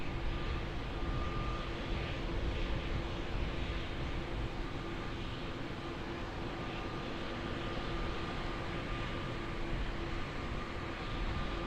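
A fixed-wing airliner takes off from runway 20 at Lisbon Airport, its engines producing a steady, loud roar with a broad rumble and faint tonal whine that holds evenly throughout.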